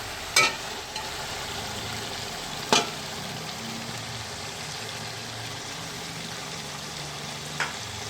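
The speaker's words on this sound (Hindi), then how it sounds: "अब हमें इसको अच्छी तरह भून लेना है।" Chicken Afghani karahi frying in a pan makes a soft, steady sizzle with a few sharp utensil clicks against the pan, quiet and close.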